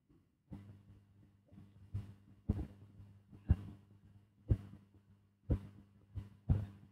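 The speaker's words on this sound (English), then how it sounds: "You know, I can hear your heartbeat." Heartbeat thumps come through a phone line, heard as a regular series of soft, muffled thuds roughly once per second over a low electrical hum, with no talking.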